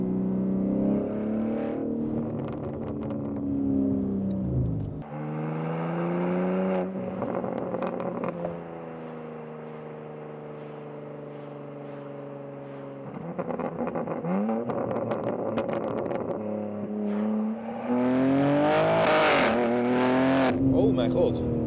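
A BMW M3 G80 or M2 G87 with an OPF-delete exhaust revs and accelerates, throaty and raspy. The engine note rises and falls in loud sweeps. Someone talks excitedly over it.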